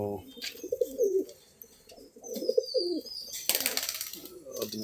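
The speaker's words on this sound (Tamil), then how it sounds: "இதெல்லாம் பழைய புறாக்கள் இதே கலரில் நூறு புறா இருக்குது" Pigeons coo in low, throaty rolls inside a loft, several calls overlapping at close range, while someone talks over them and wings flutter briefly.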